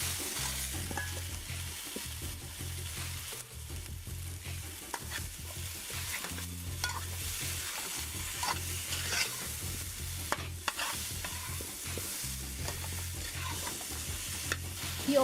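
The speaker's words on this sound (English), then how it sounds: "And now I'm gonna add my aloo or potatoes." Potatoes (aloo) frying in a pot of curry paneer, a soft continuous sizzle broken by repeated spoon stirs and scrapes, fairly quiet throughout.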